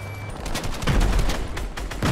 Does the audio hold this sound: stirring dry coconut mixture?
no